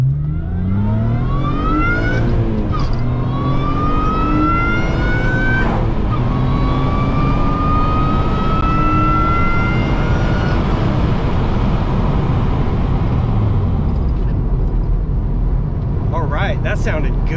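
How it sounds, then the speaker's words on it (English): A supercharged car engine fitted with a J37 throttle body revs hard with a rising supercharger whine that climbs repeatedly through gear changes, loud and close, then settles near the end. "The supercharger's way louder now, so that throttle's definitely cramming in some more air."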